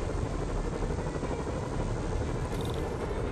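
Helicopters flying in the open-world superhero game Spider-Man on PS4, a dense, steady rotor roar and engine wash filling the scene continuously, loud and close with no pauses.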